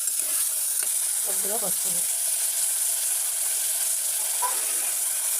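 Snail meat sizzles in a hot pan while turmeric is added, a steady bright hiss with a few stirring clinks, as a voice speaks briefly over the frying.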